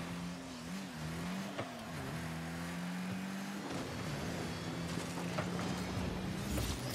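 A Rocket League car's engine revs hard through the whole stretch, its pitch climbing, dipping and holding as it accelerates, with brief tire squeals and gameplay clatter layered over the steady roar.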